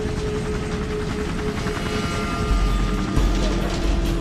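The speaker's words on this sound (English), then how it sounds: "The American chopper is already 200 meters away" An American military helicopter in flight, a steady dense rotor-and-engine roar filling the whole clip, loud and continuous, swelling slightly toward the end.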